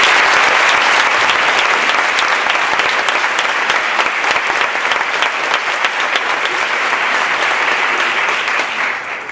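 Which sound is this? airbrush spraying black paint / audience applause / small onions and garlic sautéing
audience applause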